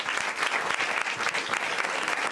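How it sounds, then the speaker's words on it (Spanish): Lively audience applause at a live comedy roast show, a quick burst of dense clapping with a slightly uneven rhythm, lasting a couple of seconds. "un aplauso para Pablo, realmente."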